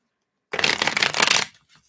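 A deck of tarot reading cards is riffled in one quick, crisp burst lasting about a second, close and fairly loud, after a moment of silence and fading into a few faint handling sounds.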